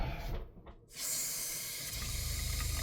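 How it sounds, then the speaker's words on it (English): An RV faucet is opened on the cold side and water gushes steadily with a bright hiss, running continuously after a brief moment of quiet. "I'm just going to go to a faucet and check the cold side."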